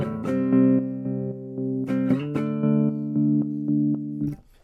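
A sustained guitar-like tone runs through a stepped tremolo effect at maximum depth, its volume jumping between discrete levels in a choppy stepping pattern. Several note changes come with sharp attacks, and the sound cuts off near the end.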